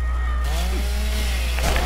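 Chainsaw in Dead Island: Riptide, its motor droning steadily and loudly with a wavering pitch for about two seconds, with no speech.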